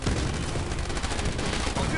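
Gunfire in the iOS video game This Means War: a continuous, dense rattle of rapid shots and blasts at steady loudness, with no pauses and no talking.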